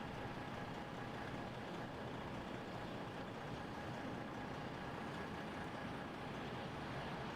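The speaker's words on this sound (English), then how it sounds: "Diesel engine in the background there." A diesel engine drones steadily in the background, a constant low rumble with a faint tonal hum, distant and unchanging throughout.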